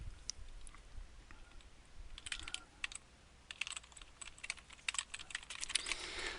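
Fingers typing on a computer keyboard while building slides in PowerPoint 2010: quiet, irregular clicks and short bursts of keystrokes close to the microphone, with no talking.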